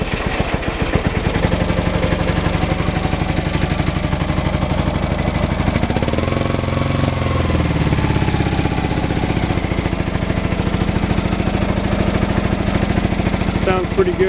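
A Honda Nighthawk 450 motorcycle engine runs steadily in a garage after sitting for 20 years, a loud continuous idle with a brief rev near the middle, no talk over it.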